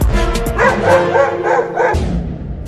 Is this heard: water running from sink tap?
no